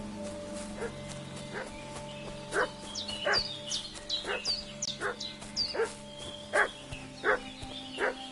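A dog barks repeatedly in the open-world medieval game Kingdom Come Deliverance II, sharp evenly spaced woofs at moderate distance over a steady ambient hum, with birds chirping in the background.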